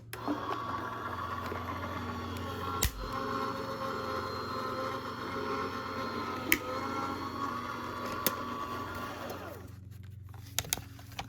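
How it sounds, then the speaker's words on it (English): Die cutting machine running during card making, a steady low mechanical hum and whir with a few soft clicks, fading out near the end, with no talk. "I'm going to run this through my die cutting machine."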